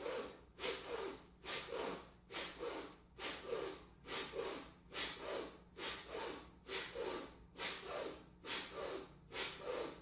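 Pranayama breathing exercise in a yoga practice session, heard as slow, deliberate alternating inhalations and exhalations, about a dozen airy breath cycles in steady rhythm, close and fairly quiet with no talking.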